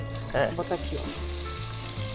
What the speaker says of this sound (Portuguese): Aí você vai refogar um pouquinho a cebola